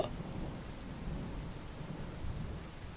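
Steady rain falls at night with a low rumble of thunder beneath it, a continuous wash of drops that stays fairly faint and unbroken.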